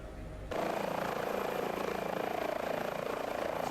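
Airbus H145 helicopter climbing in a flight simulator game, its engine and rotor roar cutting in suddenly after a brief quieter moment, then holding loud and steady with a dense whooshing drone.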